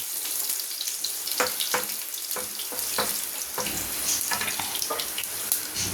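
Garlic frying in oil for a spicy brinjal fry gives a steady, close hiss and crackle with scattered sharper pops, continuous throughout with no talking.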